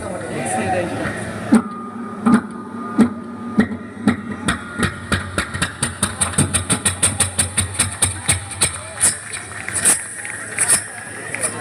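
A generator engine being hand-cranked and misfiring without catching: a run of sharp rhythmic knocks that speed up into rapid chugging puffs, then die away, loud and close, with a voice speaking at the start.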